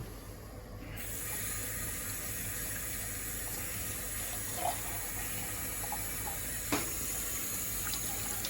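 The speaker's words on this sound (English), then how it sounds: "I'm going to add a tiny bit of water." Tap water runs steadily into a pot of beef stifado in a home kitchen, a continuous splashing stream with a couple of small clinks, no talking.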